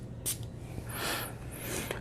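Gucci Guilty Black perfume sprayed from a small decant, a few short hissing spritzes in a quiet room, soft and close, with brief pauses between them.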